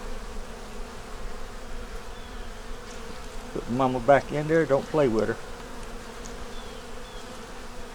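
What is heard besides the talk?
honey bees buzzing around hive frames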